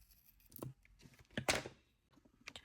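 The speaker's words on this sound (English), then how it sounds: "now I'm going to cut my cord" Scissors snipping through beading cord up close, a few faint, quick cuts and rustles with short pauses between them, quiet throughout and with no speech.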